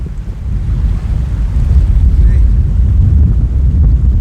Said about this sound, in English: it's windy, guys. I'm struggling to stand up